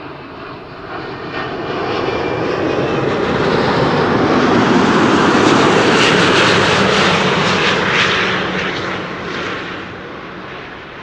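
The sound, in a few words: Corendon A350 airliner arriving from Bonaire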